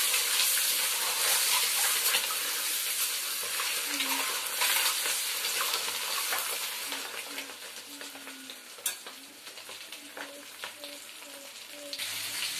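Potatoes frying in a pan produce a continuous sizzling hiss that fades somewhat toward the end, with faint scrapes and a little watery clatter in the background and no talking.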